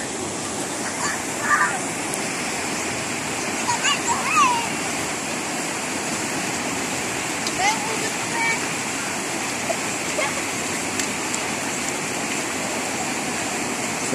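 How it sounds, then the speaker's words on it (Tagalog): Strong rushing river water in a flooded barangay roars as a steady broadband wash, loud and continuous throughout, with someone speaking intermittently over it. "Grabe talagang tubig ng lakas."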